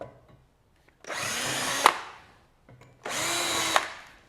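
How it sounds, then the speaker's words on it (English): Two bursts of a power drill whirring up and boring in, each about a second long, close and loud with a short pause between. "got out my drill"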